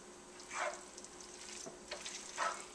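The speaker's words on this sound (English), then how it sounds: "All of the ham is now in the frying pan, and we're just going to give it a nice little stir" Soft sizzling of ham frying in a pan, with a few scraping stirs and splashy swishes rising and falling over about three seconds.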